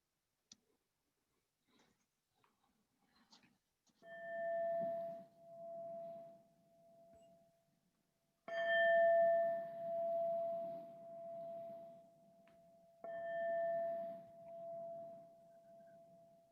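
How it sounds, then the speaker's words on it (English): A chime rings three times during a Sunday service, each strike a clear sustained tone that rings out and decays slowly before the next. "with the ringing of our chime 3 times"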